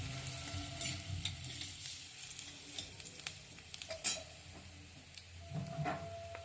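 Chopped garlic frying in hot oil, a quiet sizzle with scattered crackles and a few utensil clicks and scrapes.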